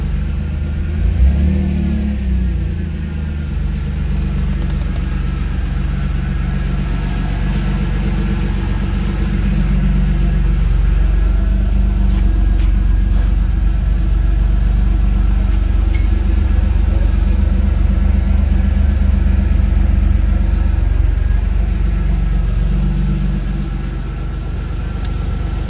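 A car engine with a single-inlet, dual-outlet cat-back exhaust idles with a steady, close, loud rumble, swelling with a rev early on and holding a deep drone throughout, with no talking.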